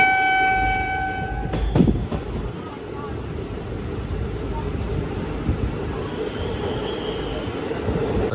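Train running on a landslide-prone railway line near Ramnagar, a small station on the route to Udhampur in Kashmir, a steady near rumble of carriages with a brief horn-like tone early on.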